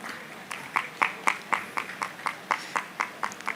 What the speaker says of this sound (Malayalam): നല്ലൊരു ക്ലാപ്പ് കൊടുക്കുക.